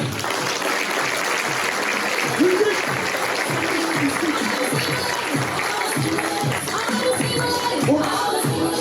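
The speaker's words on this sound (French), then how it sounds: "Alors, applaudissements pour Natacha Saint-Pierre." Sustained applause from a crowd at a 2025 New Year's wishes ceremony in Templeuve-en-Pévèle, a dense wash of clapping that continues throughout with voices mixed in.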